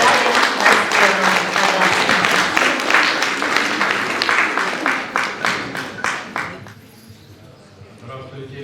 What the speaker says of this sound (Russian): под бурные аплодисменты приглашаем на сцену